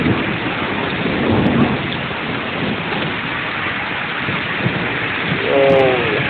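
Hard rain pouring down in Ao Nang, a loud, dense and unbroken roar of downpour that fills the whole clip, with a brief tonal sound near the end.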